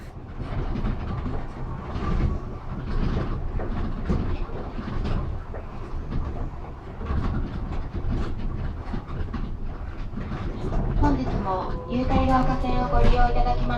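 A Japanese people mover train built by Nippon Sharyo runs along its track with a steady rolling rumble and rhythmic clattering. The sound stays close and continuous throughout.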